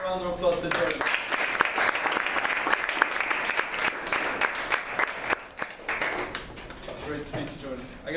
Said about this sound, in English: Let's give another round of applause to Jordan.